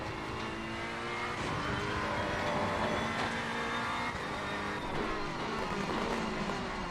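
Modified Alfa race car in a racing video game qualifying session, its engine revving hard and continuously with rising and falling pitch, loud and close, with no talk over it.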